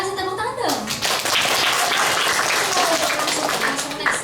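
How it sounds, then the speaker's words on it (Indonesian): Audience at a hotel business event breaks into clapping right after a speaker's voice, the applause swelling and holding fairly loud, with a voice briefly heard over it. "kasih tepuk tangan dong"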